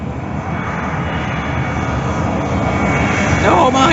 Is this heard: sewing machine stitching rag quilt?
no